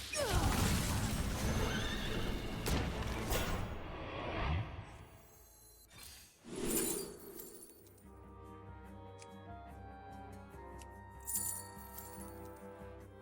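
A horse neighs loudly in the Hearthstone card game as the Thunder Horse card is played, a drawn-out whinny followed by clinking, glassy game effects and chimes.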